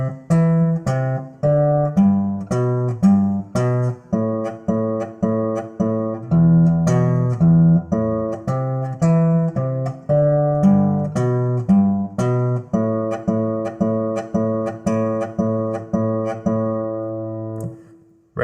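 Finger-style guitar intro, thumb-picked bass line under plucked notes, played alone as a steady rhythmic pattern of clear, close, ringing picked notes.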